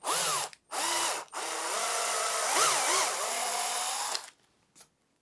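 A power drill boring through a book block whines in three bursts, the last one long and steady with pitch wobbling as it bites, then stops, followed by a short brief blip.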